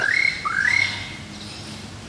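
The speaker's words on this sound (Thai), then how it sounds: "เสียงนกธรรมชาติ" A bird gives a few sharp rising squawking calls in quick succession, fairly close, then fainter chirps against quiet outdoor background at a garden home in Tha Mai, Chanthaburi, Thailand.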